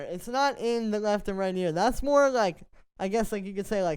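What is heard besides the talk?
No everyday noise stands out behind the speech.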